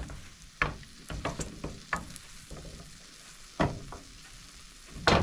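A blueberry pancake cooks in a pan, making a faint, low sizzle broken by a few sharp clicks and scrapes of a utensil against the pan.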